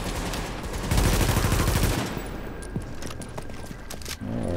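Gunfire in The Division video game, with a dense burst of rapid automatic shots followed by scattered sharper reports and a mechanical clatter, fairly loud and continuous.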